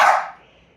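A single sharp bark from a Boston terrier puppy, close and loud, fading quickly into near silence.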